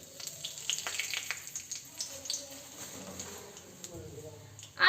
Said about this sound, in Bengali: এটাকে আমি হালকা একটু ভেজে নিব